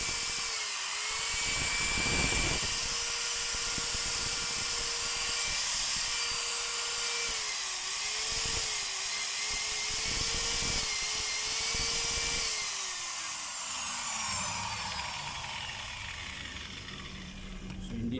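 A DeWalt DW830 5-inch angle grinder runs steadily with a high whine, dipping briefly under load a few times before spinning down toward the end.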